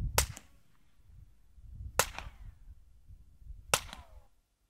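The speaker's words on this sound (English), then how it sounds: "This is the Colt 32 with a wet suppressor." Three sharp gunshots from a Colt .32 pistol fitted with a wet sound suppressor, evenly spaced about two seconds apart, each a loud crack with a short ringing tail over a quiet low rumble.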